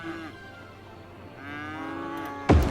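Cows moo repeatedly in the video game Cities: Skylines in long, low drawn-out calls, overlapping one another, ending with a sudden louder burst of noise.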